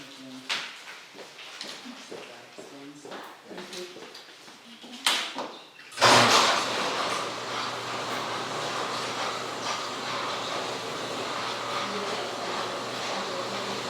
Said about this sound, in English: Can you shut the door out there, Rachel?